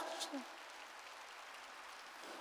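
Congregation applause during a Korean church sermon, a broad wash of clapping heard at moderate distance and fairly faint, with a brief voice near the start.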